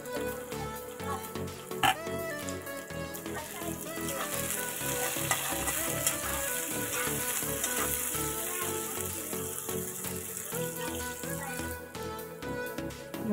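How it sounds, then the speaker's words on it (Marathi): Tomatoes and onion sauté in a hot pan for an egg bhurji, giving a steady, close frying sizzle with occasional stirring scrapes and clinks, no voices. "टोमॅटो ही छान परतायचं आता"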